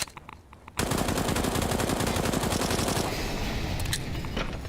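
Rapid automatic wall-bang gunfire in a Counter-Strike match, Mousesports vs Dignitas at Blast Premier Spring 2020 Europe, bursts in after a brief quiet moment as a loud, dense rattle of shots that continues for several seconds.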